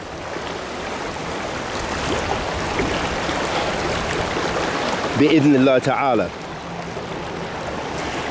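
A river flows steadily outdoors with a continuous broad rushing and splashing, fairly close and loud throughout, while someone speaks briefly over it.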